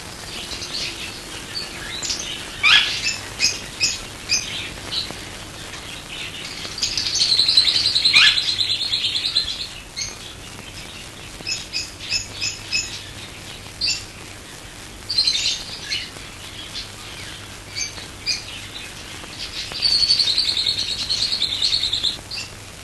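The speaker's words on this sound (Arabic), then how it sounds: "عصافير الحب." Lovebirds chirping in repeated bursts of bright, high twittering, close by and lively, with brief pauses between flurries and a faint steady hum underneath.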